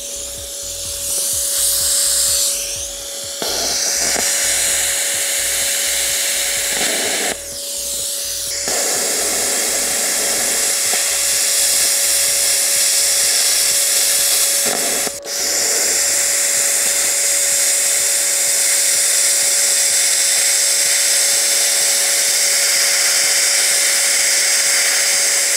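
A 149€ Lidl plasma cutter slices metal with a harsh, continuous hiss and a steady high whine, close and loud, its low buzzing pulses dropping away after the first two-thirds, alone without voices.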